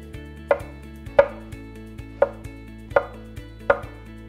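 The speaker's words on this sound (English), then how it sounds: "Clean off the bottom and just slice them up." A knife slicing shiitake mushrooms on a cutting board gives five crisp, evenly spaced taps, close and clear against a quiet background with no talking.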